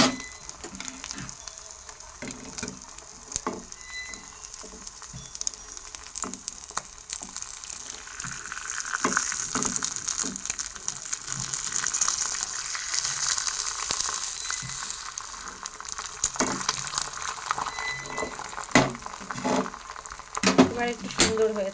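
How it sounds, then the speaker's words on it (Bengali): An egg omelette sizzles and crackles steadily in a frying pan, the hissing swelling and fading with occasional clinks of a utensil, close and moderately loud. "যেহেতু দুটো ডিম, ওই জন্য দুইবারই ভাজবো"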